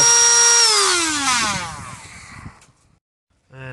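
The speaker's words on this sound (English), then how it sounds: "we're going to have to get this grinded off" An angle grinder used to cut off a seized bolt on a Land Rover Freelander 2 starter motor whines loudly up close, then winds down in falling pitch to silence before a brief final burst.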